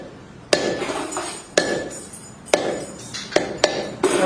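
A blacksmith scores hot iron while making a nail, striking it with about six sharp, ringing metallic hammer blows at an uneven pace, fairly close, with faint clinks in between.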